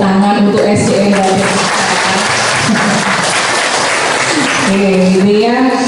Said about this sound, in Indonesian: sehingga boleh dong tepuk tangan untuk SDN Badetika.